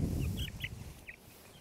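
A normal broiler chicken on a farm giving a few short, high chirps while held in the hand, over low handling rustle and background noise, with no voices.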